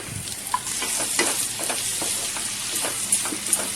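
Prawn chutney crackles and sizzles steadily as it fries in a pan, with light stirring clicks and scrapes over the continuous hiss. No speech.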